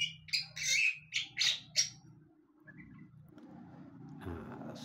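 Several bright bird chirps ring out in quick succession in an aviary, then fade, leaving a low steady hum with faint background noise.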